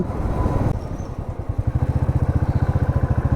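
A motorcycle rides at 30-40 km/h, recorded on a GoPro Hero 9, with a loud, close engine throb whose rhythmic pulsing settles into a fast, even beat over rushing wind.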